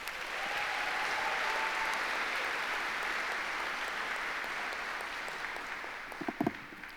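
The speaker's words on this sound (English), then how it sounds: "Another round of applause." Sustained applause from a large audience at a college graduate hooding ceremony, dense and steady for several seconds before tapering off, with a few sharper knocks near the end.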